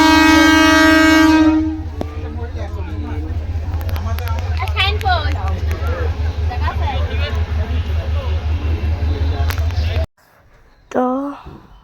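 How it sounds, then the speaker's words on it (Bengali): A train arrives at a station near the border, opening with a loud, sustained horn blast, then a close, steady rhythmic clatter of wheels under crowd babble and another short horn near the end, with people talking. "ট্রেন আসবে কিছুক্ষণের মধ্যেই।"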